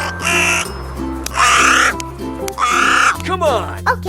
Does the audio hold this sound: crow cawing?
yes